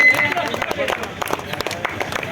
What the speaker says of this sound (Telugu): ఒకసారి టీమ్ అంతా ఒకసారి గట్టిగా చప్పట్లు కొట్టండి